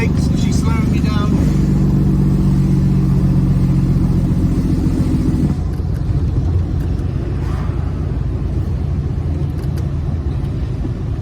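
A Foden truck with a Cummins engine slowing down with no brakes applied, its engine a heavy, steady rumble heard from inside the cab, with a faint whine that fades partway through and someone speaking over it.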